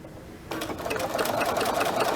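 A sewing machine starts after a moment of quiet and runs a number 2 zigzag stitch as a steady, close mechanical whir that builds slightly while it keeps going, with no voices.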